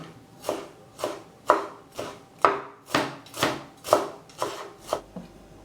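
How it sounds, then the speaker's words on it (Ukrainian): Fresh dill is chopped on a cutting board with a knife, about ten crisp, evenly spaced cuts close up, each a sharp knock with a short scraping tail, no voices over it. "Треба нарізати зелень. У мене сьогодні кріп."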